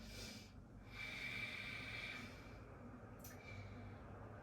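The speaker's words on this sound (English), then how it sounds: "And then you're going to just take a big breath here." A single slow, deep breath taken while holding the downward dog yoga pose, a soft airy inhale and exhale close to the mic in a quiet room.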